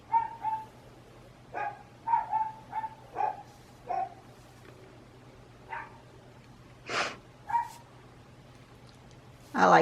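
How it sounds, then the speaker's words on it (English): Dogs bark indoors in scattered single and double woofs, some louder yelps near the end, over a low steady hum. "Everybody's barking today."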